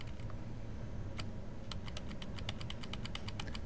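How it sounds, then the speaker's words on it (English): Computer keyboard keys, the arrow keys, pressed while working in Access 2013. About a dozen light, crisp clicks come in a quick, fairly steady run over a low steady background hum, close and clear with no talking. "I'll use my arrow keys to scoot it over."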